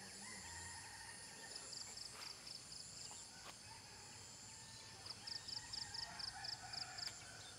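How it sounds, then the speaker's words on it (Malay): Roosters and other fowl in a kampung village on a morning, repeated crowing and honking calls in short clustered bursts over a steady background hum, moderately distant. "Aman di sini dengan bunyi ayam."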